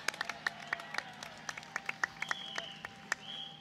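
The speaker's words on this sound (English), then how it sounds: "one more round of applause for Heritage High School Marching Band" Scattered, sparse clapping from a parade crowd cheers the Heritage High School Marching Band at a homecoming parade, individual claps sharp and distinct over a faint outdoor background with a thin whistle-like tone.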